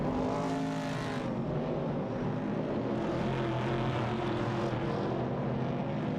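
Race cars, a Ford Falcon and a 1968 Chevrolet Camaro, roar continuously in a racing video game, engines droning loud and steady with a shift in pitch near the start.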